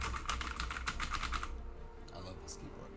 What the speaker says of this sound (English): Have you heard this keyboard? Listen.